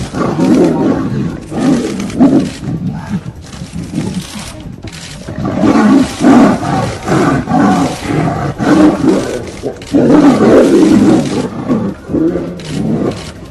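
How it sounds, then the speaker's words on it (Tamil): Two tigers fight in the dense Bandipur forest, letting out loud, repeated roars and snarls that surge and fade throughout, with no voices heard. "அடர்ந்த வனப்பகுதிக்குள் 2 புலிகள் ஆக்ரோஷமாக சண்டையிடும் வீடியோவை வனத்துறையினர் வெளியிட்டுள்ளனர்"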